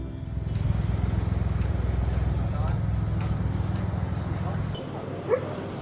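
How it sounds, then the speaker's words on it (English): A very sick, huge dog whimpers and cries softly over a steady low droning background, the whines continuing for several seconds before cutting off near the end. "He's a huge dog we found outside 7-Eleven."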